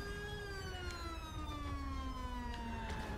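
A police siren in the GTA 5 video game wails with a long, steady falling tone, loud and close, heard alone without talk.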